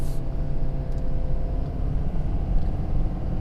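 A 2019 Ford F-350 Powerstroke diesel pickup pulls off onto a highway while towing a trailer, giving a steady low engine rumble and road drone that holds evenly throughout, close and fairly loud, with no talking.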